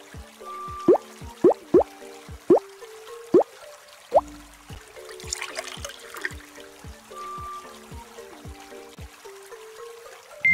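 Water trickles and pours into a hole in the Dinosaur Train game, a Dino Drink children's game, with bright plucked game tones and a brief burst of splashing midway, alone without talk.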